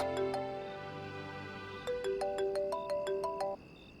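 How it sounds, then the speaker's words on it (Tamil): A mobile phone ringtone plays a bright electronic melody, a sequence of clear repeating tones that pauses briefly then resumes in a faster run of notes before cutting off, close and alone without any talking. "டேய் ஃபோன் எடுறா."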